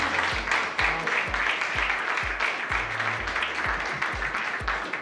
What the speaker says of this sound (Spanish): Les pido un aplauso para Pedro Pablo Peña.